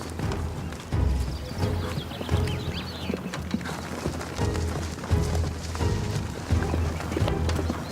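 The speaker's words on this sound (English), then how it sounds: "When Javier Martin is not herding cattle, he gives displays of traditional Spanish horsemanship." Horse hooves thudding in a rhythmic, repeated clip-clop during a traditional Spanish horsemanship display, moderately close, with faint background sounds between strides.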